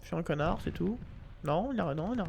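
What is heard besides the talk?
No everyday noise stands out behind the speech.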